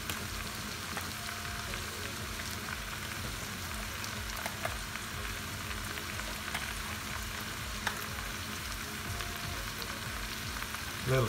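Spinach and cream sizzle and bubble steadily in a hot pan, a dense crackling hiss holding at an even level for over ten seconds, with a few faint stirring scrapes and no talk.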